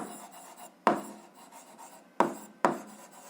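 Writing on a surface during a physics lesson, soft scratching strokes with three sharp taps as the tool meets the surface, close and fairly quiet with no speech over it.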